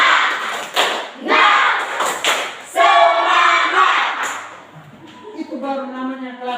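A school class does a rhythmic spirit clap, loud group claps and thumps coming in bursts mixed with shouted voices, then the sound shifts to chanting and talk near the end.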